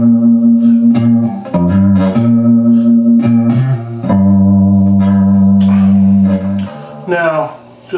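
Sustained electric guitar notes and chords heavily processed through effects, with distortion and echo tails, ringing loudly and continuously before trailing off.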